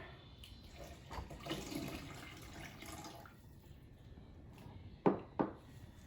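Water poured into a bowl of yeast, salt and other dough ingredients for homemade chocolate croissants: a soft, steady splashing stream for a couple of seconds, then two sharp knocks near the end.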